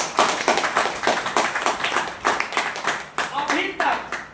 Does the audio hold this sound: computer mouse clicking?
no